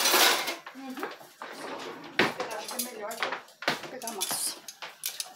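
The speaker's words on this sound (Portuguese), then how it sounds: "deixa eu pegar o pegador, né?" Kitchen tongs are picked out from among pots and utensils while lasagna is being made at home, with repeated metallic clanks and clatters of cookware and cutlery close by as someone talks over them.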